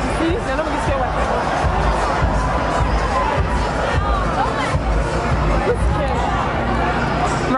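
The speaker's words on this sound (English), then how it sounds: "Wait, let the crowd pass." A dense street crowd at San Francisco Pride 2019 fills the air with continuous babble, scattered shouts and cheers, loud and close all around.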